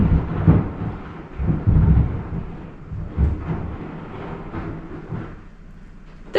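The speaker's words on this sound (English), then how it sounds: "We're just having a little avalanche." A small avalanche of snow sliding off a roof: deep, uneven rumbling surges that swell and fade in several waves, heard from indoors at moderate loudness, with no talking.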